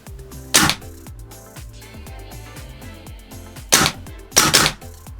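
An airsoft PP2K (PP2000) SMG fires three loud, close single shots, with a quieter mechanical clatter and clicking running between them.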